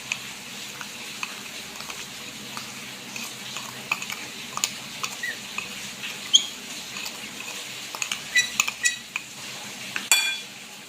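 Melted butter and ground sugar are stirred together in a bowl, giving soft repeated scraping and clicking of a utensil against the dish, fairly close and quiet, with sharper taps near the end.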